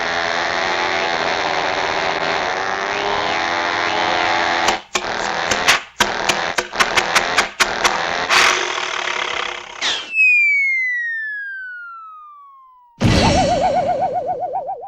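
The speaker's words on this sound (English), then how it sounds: "the cartoon sound effect when the plane is just not going anywhere" A cartoon-style sound effect of a plane that sputters and fails to take off: a rough engine drone broken by choppy bursts, then a long descending whistle as it drops toward the ground, ending in a crash-like burst. It is loud and alone.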